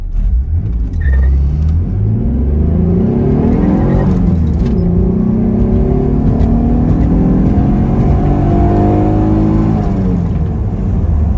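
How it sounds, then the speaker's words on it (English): Mitsubishi 3000GT VR4 accelerating hard with the clutch slipped in first and second gear: loud engine revs climb, break at a gear change, then climb again over a constant road rumble. "So I'm gonna go ahead and slip the clutch going in the first, and I'm gonna slip the clutch in the second."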